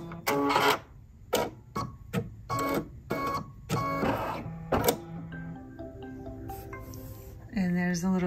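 A Brother Luminaire 2 embroidery machine stitching, with short bursts of mechanical whirring broken by clicks and pauses, then beeping tones near the end.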